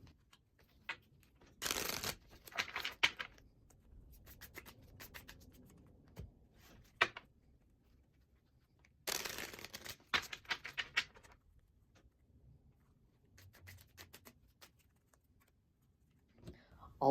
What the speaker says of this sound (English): So let's get these shuffled up and we can see what kind of guidance is coming through.